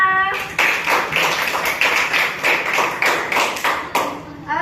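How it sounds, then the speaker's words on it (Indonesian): Classroom clapping during a school lesson, a group of students applauding together in a steady burst of overlapping claps lasting several seconds, fairly close and loud. "Ya, kasih tepuk tangan untuk Hana."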